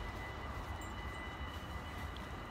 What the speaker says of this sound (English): It's the metro. Oh, because we're walking beside the rails.